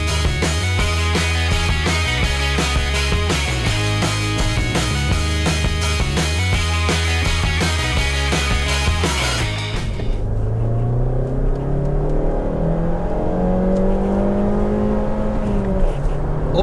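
Mazda 3 hatchback with a 2.0 Skyactiv petrol engine revving hard, music over the first part, then the engine note sweeps up and falls back clearly on its own.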